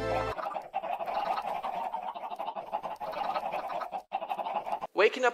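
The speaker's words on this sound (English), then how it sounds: "I just wish I didn't build a chicken farm right outside of my bedroom." Chickens on a Minecraft chicken farm cluck and squawk in a steady, busy clamour that runs almost without break for about five seconds, close and fairly loud, with a short pause near the end.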